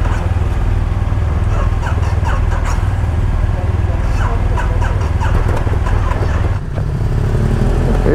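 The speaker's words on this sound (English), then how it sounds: "Motorcycles are fired up." Harley Davidson Fat Boy motorcycles idling with a loud, continuous, throbbing engine rumble nearby, joined by people talking.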